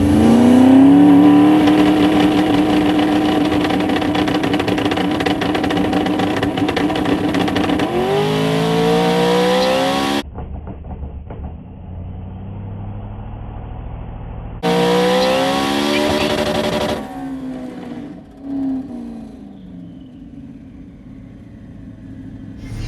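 Trucks at a drag racing event roar down the strip, a loud sustained engine howl climbing through gear changes, cutting out, then a second loud run that fades into distant rumble.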